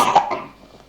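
A single short cough from the video game Outlast, close and sharp, fading quickly into quiet.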